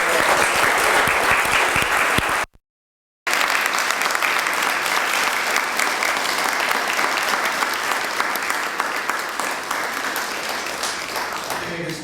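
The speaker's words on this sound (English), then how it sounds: "How about a round of applause?" A room full of people applauds after a molecular gastronomy cooking demonstration, sustained dense clapping that breaks off briefly into silence, then resumes and carries on evenly to the end.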